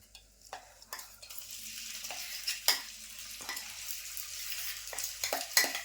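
Green pea stuffing for matar kachori is tipped into a hot pan and stirred, with a steady frying sizzle under repeated sharp scraping strokes of the spoon against the pan.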